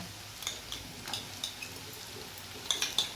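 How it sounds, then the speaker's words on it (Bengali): Ginger-garlic paste being stirred into softened onions frying in a pan, with light scraping and soft metallic clinks of a spoon against the pan recurring at an uneven, gentle rhythm, fairly quiet. "এই আদা রসুন বাটাটা দিয়েও আমি এটা নাড়াচাড়া করব"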